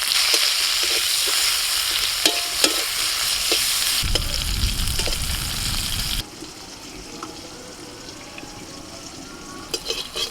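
Bitter gourd frying in hot oil with salt and turmeric, a steady close sizzle with stirring scrapes, shifting to louder bubbling and then a quieter hiss partway through, no talking.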